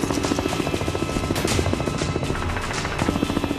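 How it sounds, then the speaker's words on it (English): Military helicopters lifting off during a rescue mission, a loud continuous rotor thump and turbine whine that holds steady close by, with no voices. "the choppers take off without firing a single shot"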